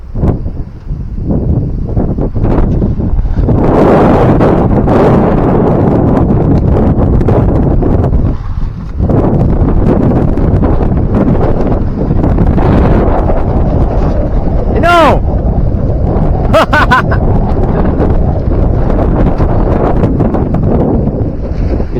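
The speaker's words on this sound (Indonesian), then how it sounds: "Angin cukup kencang sekali teman-teman ya." Strong wind gusting across an open construction site for a boat-shaped mosque, a loud, steady roar buffeting the microphone throughout, with people talking under it and brief metallic scrapes of work near the end.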